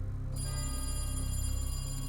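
A telephone rings in a kitchen in a horror setting: a steady, tonal ring that starts abruptly after a brief quiet moment and holds over a low, pulsing hum.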